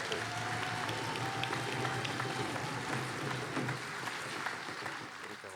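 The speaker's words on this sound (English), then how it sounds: "So how about another round of applause for our hosts?" Quiet, distant applause from a crowd honouring the hosts from Wrangell at a Celebration 2022 processional and grand entrance, a soft continuous patter with a low hum and murmur of voices underneath.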